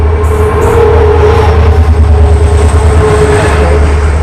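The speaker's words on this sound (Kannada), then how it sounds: "ಮುಂಬೈ ಎಕ್ಸ್ಪ್ರೆಸ್ ಟ್ರೈನ್ನ ನಾವು ಕ್ರಾಸ್ ಮಾಡ್ತಾ ಇದ್ದೀವಿ ಇವಾಗ" A loud, steady roar of the Mumbai Express train rushing past close by, with continuous rumbling wheels and rattling cars throughout.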